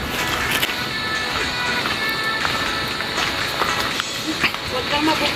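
Water rushes steadily in a broad, unbroken hiss that stays close and fairly loud the whole way through, with faint voices mixed in.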